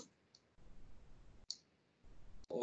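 Computer mouse clicks while selecting surfaces in a Rhino model, a few sharp isolated clicks spaced apart over soft background noise, ending with a louder burst.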